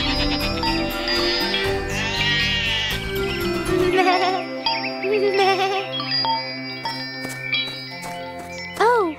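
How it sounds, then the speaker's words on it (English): Goats with bells around their necks in an animated children's story, bleating repeatedly at the end while bells tinkle and ding, after a stretch of music. "That's when she heard the goats with bells around their neck."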